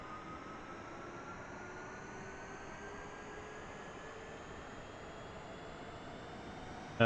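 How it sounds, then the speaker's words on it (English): Auxiliary power unit spooling up on a Boeing 787 in Microsoft Flight Simulator 2020, a steady broadband whine and hum with faint tones slowly rising in pitch, heard from outside the aircraft. "We can now hear the APU kicking in."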